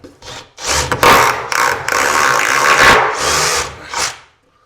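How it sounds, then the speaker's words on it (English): A power drill bores a hole into a stubborn masonry wall with grout joints to fasten cabinets. It comes in several loud, close bursts of grinding whine with brief pauses between them, and no one talks. "So this is what I'm doing. Drilling a hole."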